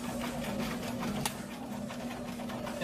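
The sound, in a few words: sewing machine back stitching a flat felled seam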